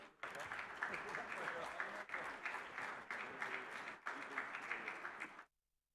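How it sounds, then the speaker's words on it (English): An audience at a hospitality industry conference panel applauds, a dense steady burst of clapping that goes on for about five seconds and then stops abruptly. "please give them a round of applause."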